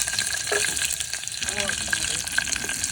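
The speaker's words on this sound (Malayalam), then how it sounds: "കടുക് പെട്ടെന്ന് സൗണ്ട് വരുന്നുണ്ടോ" Mustard seeds splutter and crackle in hot oil at an outdoor camp cookout, a dense close sizzle with sharp pops, a voice speaking over it.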